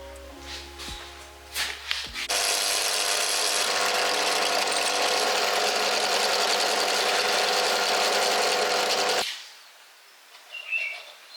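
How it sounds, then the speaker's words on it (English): A power drill bores a hole into a wooden knife handle block, a loud steady whirring grind that runs for about seven seconds after a few short starts, then stops abruptly. "So let's start drilling a hole and then making a slot to get it fixed up."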